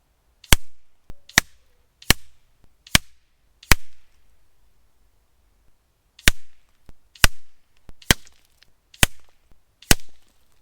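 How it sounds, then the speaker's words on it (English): An FX Impact M3 air rifle fires at 977 feet per second: about ten sharp, crisp shots at a steady pace, split into two groups by a short pause, with near silence between them. "let's go on with the shooting at 977 feet per second"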